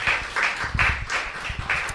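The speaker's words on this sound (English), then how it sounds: "I invite you to give a warm round of applause to our wonderful guest." Audience applause for a guest at a live podcast recording, a steady wash of clapping with some louder individual claps, close and continuous, no talking.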